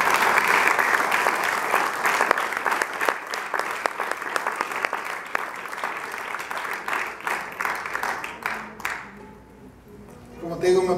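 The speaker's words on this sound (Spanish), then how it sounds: "pero piden un aplauso a Dios" A church congregation claps together during a sermon, a long, loud, even wave of applause with scattered crowd voices that thins out and stops near the end.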